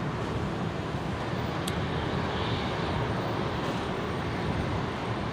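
A Qantas jet departs Brisbane's runway 01 right, bound for Melbourne, its engines a steady broadband roar held at an even, distant level throughout with no talk over it.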